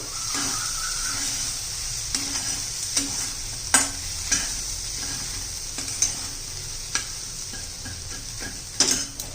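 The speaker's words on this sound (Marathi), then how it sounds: "कांदा लसूण मसाला घातलेला आहे मी सर्व कसं व्यवस्थित मिक्स करून घेऊ" Keema with onion-garlic masala and coriander powder being stirred in a pan, a sizzling hiss under steady scraping and clinking strokes of a utensil against metal, repeating every second or so, close by and without speech.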